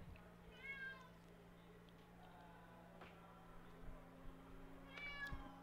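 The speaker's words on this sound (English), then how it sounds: "Naif, do you want to come and get the cat, please?" A house cat meows several times, faint and close, with drawn-out cries near the start and end and a low steady hum underneath.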